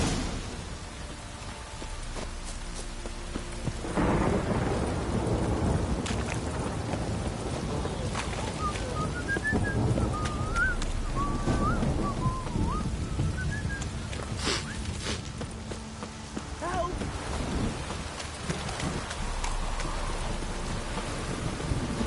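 Heavy rain pours down steadily and loudly, with low thunder rumbling beneath it and a few thin whistling tones drifting through the middle of the downpour.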